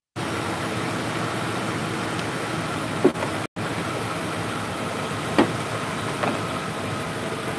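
A car engine runs steadily at idle during a battery voltage check, a constant even drone with a brief break and a couple of faint clicks.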